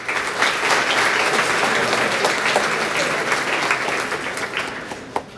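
Audience applause at a school awards ceremony for tournament teams, a thick, sustained clapping from a large crowd that stays loud throughout, with a few sharper individual claps standing out near the end.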